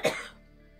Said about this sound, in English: I'm so irritated that I'm still coughing my damn head off.